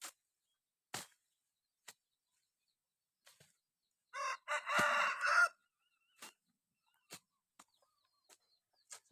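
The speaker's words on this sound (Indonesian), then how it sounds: "Ada ayam di dalam ini" A chicken inside a cassava thicket gives a clucking, crowing burst in the middle, amid sharp isolated chopping strikes from a machete clearing the cassava stems outdoors.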